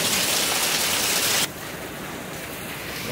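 Heavy rain pours down steadily as a dense, loud hiss in Kerala, easing slightly to a softer but still continuous downpour partway through, with no voices.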